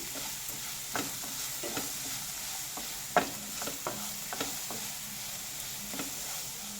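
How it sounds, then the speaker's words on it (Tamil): A spatula stirs mango rice in a frying pan, making soft irregular scrapes and a few sharper knocks over a faint steady sizzle, with no voices. "இது ஒரு 2 நிமிஷம் நீங்கள் இந்த மாதிரி கிளறிக்கோங்க"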